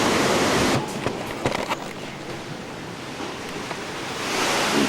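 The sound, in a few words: Hurricane Katrina floodwater and surf rushing in, Slidell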